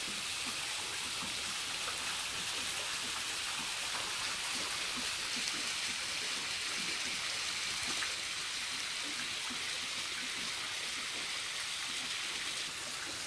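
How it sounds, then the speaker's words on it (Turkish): Steady rain pours down outdoors on Uludağ, a dense continuous hiss holding the same level throughout with no voices. "Yağmur da ortaya çıkmış."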